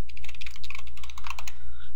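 Someone types a password on a computer keyboard, a rapid, close run of light key clicks lasting a couple of seconds, heard alone without talking.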